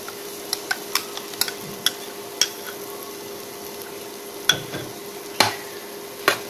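Ground masala is stirred into frying onions and tomatoes, with a soft background sizzle broken by a series of sharp spoon clinks and scrapes against the pan.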